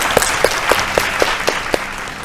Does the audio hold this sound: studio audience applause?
yes